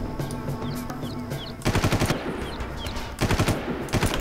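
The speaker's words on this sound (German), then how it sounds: "Das ist ein Scharfschütze." Sniper rifle fire in the jungle shooter Far Cry, with several loud, sharp shots and rattling bursts in two dense clusters, one around midway and another near the end, over steady game ambience.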